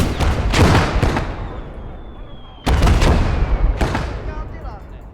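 Heavy artillery booms twice in the Blood Red Snow battle game, each deep blast rolling out into a long fading rumble, loud and close, with a thin whine trailing after the first.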